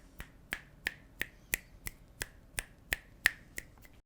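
About a dozen finger snaps in an even rhythm, each a sharp, crisp click with a quick decay. They are picked up by a Movo UM700 USB microphone, close and clear against a quiet background.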